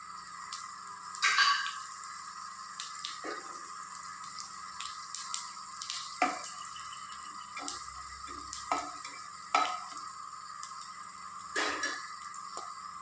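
Whole spices sizzle faintly in hot oil: three cloves, a little fennel, a cinnamon stick, a cardamom pod, a bay leaf and kalpasi. A steady quiet hiss runs throughout, punctuated by occasional sharp stirring taps.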